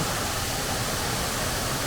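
Bukhtivets waterfall at night, with water pouring down in a steady, dense broadband roar that holds constant and loud for the whole stretch, with no voices.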